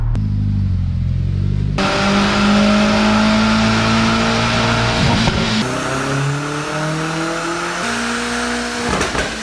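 An Audi S3 1.8T engine revs hard on a dyno and climbs steadily in pitch, its loud droning growl rising through the gears, then holding a high, strained note before dropping off.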